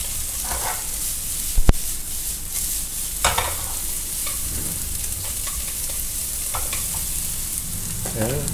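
Onion sizzles and fries in a hot pan while preparing live Maine lobster uni ramen, a steady close crackle with a few sharp clatters of stirring and no talk.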